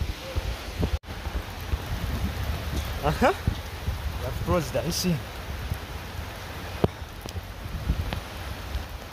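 Heavy rain pours down in a steady broadband hiss while someone talks in an agitated, excited voice close to the microphone, with a few sharp knocks and thumps breaking through.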